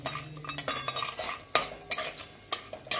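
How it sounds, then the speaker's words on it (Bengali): Peanuts dry-roasting in a pan, being stirred so they rattle and clatter against the metal in a series of sharp, irregular scrapes and clicks, close up with no talking. "এই দেখো বাদামটা যে আমি ভাজি, এর মধ্যে একটা ঠনঠনে শব্দ হয়ে গেছে।"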